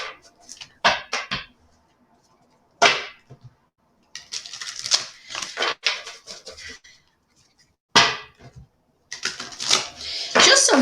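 A deck of tarot cards is shuffled in quick riffling bursts close to the microphone, with crisp flapping and slapping clusters separated by short quiet gaps and no speech.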